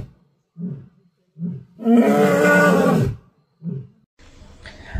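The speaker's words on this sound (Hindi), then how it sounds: "दहाड़ना शेरों के लिए संदेश देने का एक तरीका है।" An Asiatic lion in Gir forest roars once with a loud, sustained, rough call of about a second, framed by short, low grunting breaths before and after.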